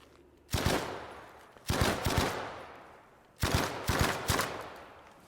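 Video game gunfire in three loud, close bursts of rapid shots, each burst tailing off before the next, with quiet gaps between.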